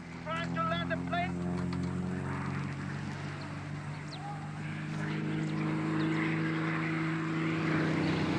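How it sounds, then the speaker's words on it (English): A propeller airplane drones steadily as it tries to land, its engine hum loud and continuous throughout, with voices talking over it. "Trying to land the plane."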